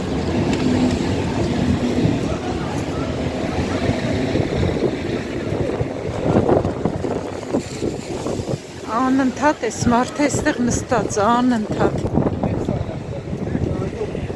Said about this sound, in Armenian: Այստեղ էլ քամին ուժեղացավ